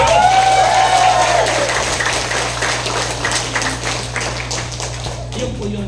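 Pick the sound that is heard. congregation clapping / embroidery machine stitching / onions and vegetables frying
congregation clapping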